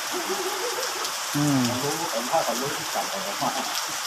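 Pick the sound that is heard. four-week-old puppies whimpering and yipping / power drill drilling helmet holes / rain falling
rain falling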